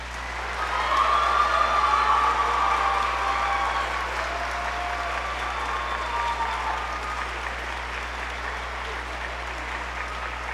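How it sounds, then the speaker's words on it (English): An audience at a spring choral concert applauds the choir students, the clapping swelling quickly to a full, steady round before gradually thinning while remaining sustained throughout. "Please give these students a round of applause."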